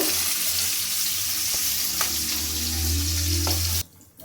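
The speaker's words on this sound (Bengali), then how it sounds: "এবার আমি আলুটা ভেজে নেব।" Potatoes fry in hot oil for a jackfruit and prawn dish, giving a loud, steady close sizzle with a low hum that stops abruptly near the end.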